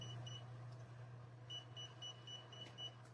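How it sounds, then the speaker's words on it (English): A Lytool 130 ft laser tape measure in continuous measurement mode emits short, faint high beeps in a quick repeating series over a steady low electrical hum. "So if you hold the on button just for a couple seconds, you can hear that beeping."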